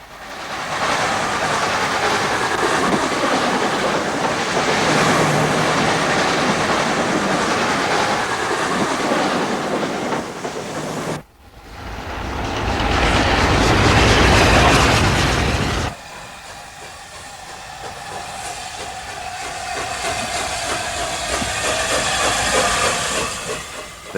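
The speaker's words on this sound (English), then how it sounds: "It's a nice place to watch trains go by." Trains rush past on the main line at Hadley Wood, a loud, continuous roar and hiss of passing rolling stock, briefly cut off, then a sharper surging burst before settling into a steadier rumbling rush with no voices.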